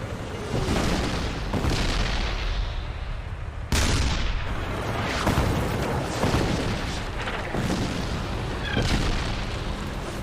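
Tank battle in Vietnam with South Vietnamese forces opening fire on enemy tanks: a loud sequence of booming gunshots and explosions, several heavy blasts with rumbling tails and sharp cracks, close and continuous with no speech.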